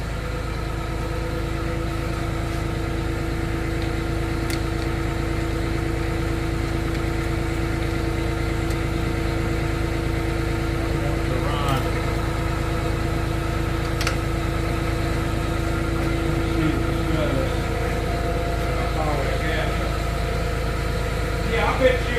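A Wisconsin V4 industrial engine idles in a steady, even low drone, running continuously and fairly loud, with people talking faintly over it.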